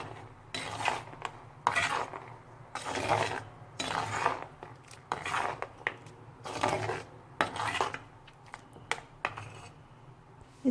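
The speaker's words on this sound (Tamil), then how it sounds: "நல்லா கிளறி விடுங்க." A spoon scrapes around a cooking pot while stirring Chettinad rohu fish gravy with ground spice paste, turmeric and salt: repeated close metallic scraping strokes in an uneven rhythm, with short pauses between them.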